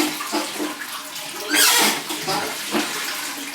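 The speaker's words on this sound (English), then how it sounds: "We have the flush toilet." Water rushes from a flush toilet in a bathroom of a large mansion, a broad hissing surge swelling midway and tapering off, fairly close with no talking.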